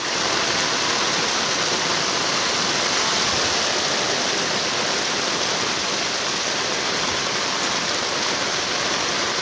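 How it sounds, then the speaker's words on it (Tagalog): Loud, steady rushing floodwater from a typhoon in Metro Manila fills the scene continuously, a dense broadband roar with no pauses or voices. "Bahang-baha na. Hanggang tuhod na ang tubig."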